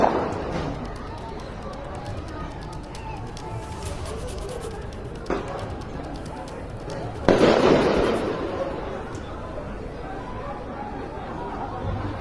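Gunfire during a Gen-Z protest near a jail in Nepal, heard as a few sharp bangs, one heavier burst standing out, over a constant bed of crowd noise and distant voices.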